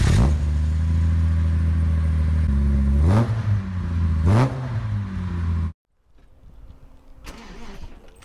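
A Jaguar XJC restomod starting while left in gear: a loud close engine cranks and catches, lurches through several sharp revving surges, then cuts out suddenly, followed by quieter clatter.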